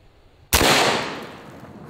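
A .72 caliber Zeus big-bore air rifle fires one shot at a torso target outdoors: a single abrupt, loud blast followed by a long, rushing decay, preceded by quiet ambience and with no talk.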